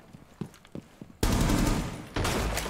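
Gunfire in Rainbow Six Siege: a few sparse, sharp shots and thumps, then a sudden loud, sustained volley of rapid automatic fire that drops briefly and resumes.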